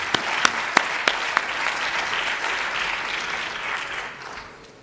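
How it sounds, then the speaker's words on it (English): Applause from a conference audience at a UN Water preparatory meeting in Dakar, a steady wash of many hands clapping with a few sharp individual claps at the start, fading out toward the end. "A big hand of applause for both of them"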